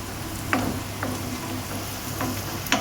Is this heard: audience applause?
no